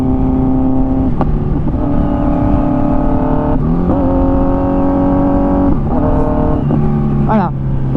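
A car engine revs loudly and steadily while being driven without the clutch, its pitch dropping and climbing at each of several gear changes spread across the span.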